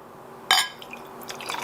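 Homemade acai berry kombucha is poured out, giving a quick liquid splash followed by a faint, light trickle and drips. The sound is quiet and close, with no talking.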